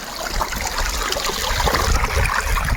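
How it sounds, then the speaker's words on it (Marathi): Water flows through furrows in a farm field planted with crops, a steady soft trickling and gurgling wash that continues evenly without talk. "अजून पाण्याचा आवाज किती चांगला यायला."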